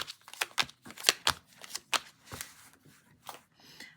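Tarot-style cards are flipped face down onto a table one after another, producing a series of close, crisp slaps and rustles in an uneven rhythm, with no one speaking.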